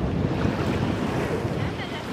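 Caribbean sea waves wash steadily onto a Dominican Republic beach, a continuous broadband surf roar heard up close with wind buffeting the microphone and no pauses.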